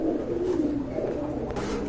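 A pair of large black-and-white magpie pigeons gives low, soft rolling coos, steady and close, with no voices over them.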